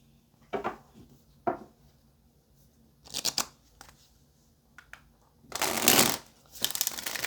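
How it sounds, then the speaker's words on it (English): A deck of tarot cards handled and shuffled up close: several short crisp riffles and flutters in irregular bursts, ending in a longer, louder riffle-and-bridge shuffle. "Let's go ahead and clarify with some tarot."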